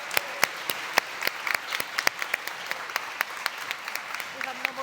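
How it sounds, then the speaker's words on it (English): Scattered, sparse clapping rings out during a conference closing plenary, with distinct individual claps at an uneven pace as people talk over it. "let's give a round of applause"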